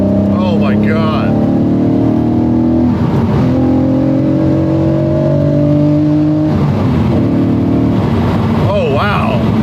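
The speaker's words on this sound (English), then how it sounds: "getting to hear the induction noise much more than stock makes this car sound" A loud Porsche 997.2 GT3 RS engine roars under acceleration, its drone climbing in pitch, with brief breaks at gear changes and an intake rasp louder than stock throughout.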